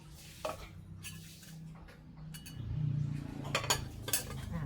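Pieces of catfish go into a cooking pot while a cook prepares Thai catfish larb, bringing a few light metallic clinks and scrapes of utensil against pot over a low kitchen background.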